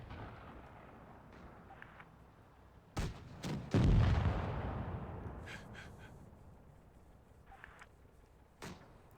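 High-explosive tank rounds firing in World of Tanks Blitz: a few sharp booms, the loudest followed by a heavy rumbling blast that decays slowly, with scattered fainter shots and clanks around it.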